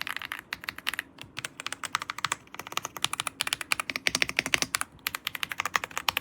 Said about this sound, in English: Alla F65 with gray wood switches. This is how they sound.